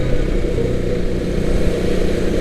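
A middleweight sports motorcycle rides past on a weekend road ride, a loud steady engine drone buried in heavy wind rumble from a helmet-mounted camera.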